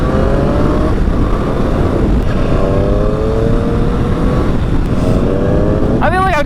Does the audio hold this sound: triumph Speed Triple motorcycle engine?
yes